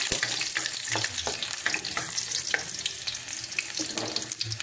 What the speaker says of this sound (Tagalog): magbigisa na po tayo mga boss